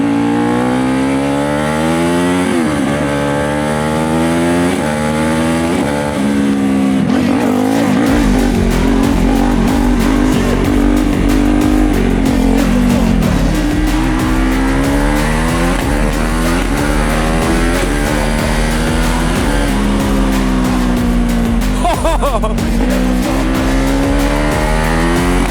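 Turbocharged 100 hp supermoto motorcycle engine pulling hard through the gears on a road, loud and close, with rising and falling revs, shifts and steady high-speed drone.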